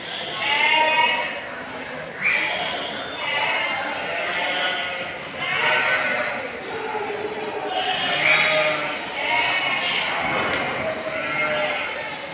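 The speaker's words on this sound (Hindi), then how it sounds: "ये देखिए रेड ब्लैक कलर का कोटा बकरा।" Red-and-black Kota goats bleat at the busy Deonar livestock market, their calls rising intermittently above a dense, steady wash of crowd noise, with people talking nearby throughout.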